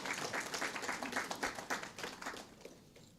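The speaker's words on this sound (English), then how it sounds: "Another round of applause for Miss Krista Saint-Ange." A crowd applauding steadily at a football league awards ceremony, a dense patter of many hands clapping that fades out toward the end.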